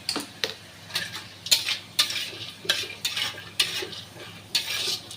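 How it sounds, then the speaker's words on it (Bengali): Bori, small lentil dumplings, frying in oil in a wok, with a soft sizzle under repeated scraping and clinking strokes of a utensil stirring against the pan at a fairly regular pace. "এবার তো ওই তেলের মধ্যে এই যে বড়িটাও ভেজে নেবো"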